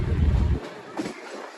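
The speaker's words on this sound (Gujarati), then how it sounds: "જંગલની વચ્ચેથી આ ટ્રેન જાય" A train moving slowly through forest and cut hillsides, its low rumble strong at first then dropping away abruptly, leaving a quieter hiss with a faint clank near the end.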